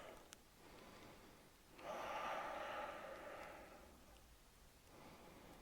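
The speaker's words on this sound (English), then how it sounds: "One more like this, inhaling through the nose, exhaling through the mouth." One slow, deep breath during a yoga flow, a soft nasal inhale followed by a longer, airy exhale through the mouth, faint and close with no speech.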